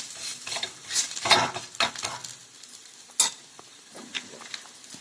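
Sweet potato and wheat-flour poli cooking on a pan, with soft sizzling and intermittent scraping and stirring clatter from a utensil, several sharper knocks spread across the moment, no voices.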